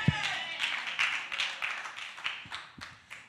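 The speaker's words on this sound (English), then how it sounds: "Three claps. Praise the Lord for that." A church congregation claps together in a series of sharp, close claps spaced across a few seconds, with crowd murmur behind them.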